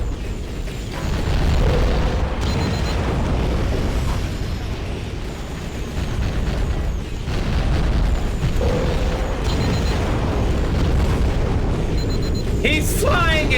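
Missile explosions in the underwater video game AquaNox, a dense continuous rumble of booms and bursts, loud and sustained, with synthetic beeps and game voices mixed in.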